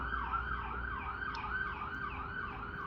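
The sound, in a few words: ambulance siren passing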